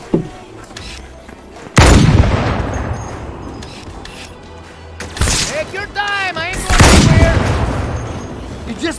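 Sniper and shotgun fire in the video game Halo, several loud booming shots at irregular intervals amid game effects, with excited voices talking over the action.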